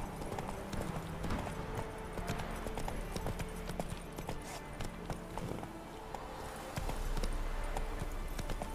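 Roach the horse gallops in The Witcher 3 game, with steady rapid hoofbeats over continuous background game sound, fairly quiet overall.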